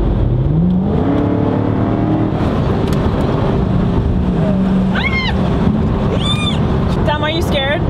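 Dodge Hellcat SRT engine heard from inside the car on a road drive, a steady loud engine drone with rising tones as it picks up speed, with road rush and a couple of sharp squeaky chirps near the end.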